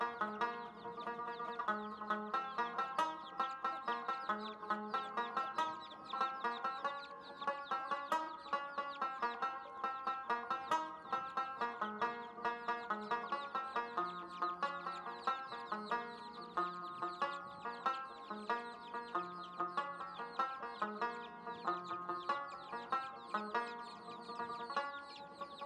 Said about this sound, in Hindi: एक मुर्गी खड़ी है मेरे सामने, पीली सी मुर्गी है, बहुत खूबसूरत